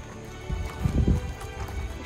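Soft hoofbeats clop briefly on the ground amid outdoor background noise, fairly faint and close.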